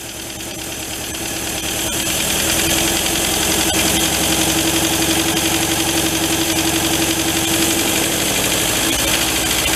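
A vintage MG TD engine, a barn find parked for 45 years, runs and idles with a steady mechanical chug and faint knocking that swells as throttle rises, then holds a constant loud drone.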